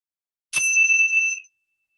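A meditation bell is struck once, giving a bright, clear metallic ring that sustains briefly and fades within about a second, alone in silence.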